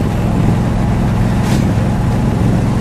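A 1970 Dodge Challenger T/A 340 Six Pak with a 4-speed and 3.91 gears cruises in fourth, giving a loud, steady engine drone and road rumble from inside the car.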